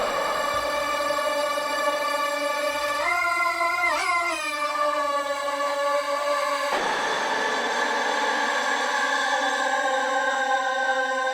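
Evolving granular synth texture from Omnisphere 2, sustained harmonic tones with shifting pitch sweeps and a sudden change in timbre partway through, loud and continuous with no talking.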